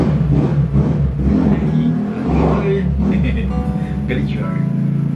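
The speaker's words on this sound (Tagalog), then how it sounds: "Patanin ko lang yung sasakyan ng van. Ang ingay eh." A parked van's engine runs with a steady low rumble and a few rises in revs, mixed with someone talking over it.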